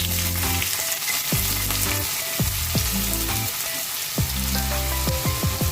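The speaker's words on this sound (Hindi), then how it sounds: "हल्का सा सौते कर लेंगे हम अनियंस हमारा।" Chopped onions go into hot oil already crackling with cumin, mustard seed and dried chili for a dal tempering, giving a loud, steady sizzle with sharp pops and spatters throughout and no talk.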